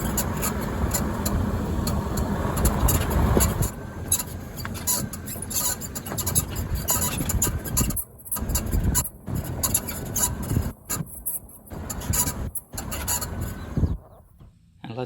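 A Mercedes with squeaking suspension drives over bumps and through turns, giving a dense rattling and rumbling road noise with repeated creaks, broken by several brief near-silent gaps.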